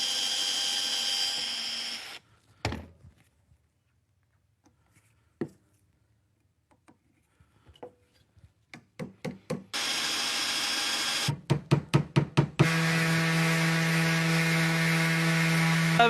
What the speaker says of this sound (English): I'm just gonna clamp this up and we will drill a couple holes in there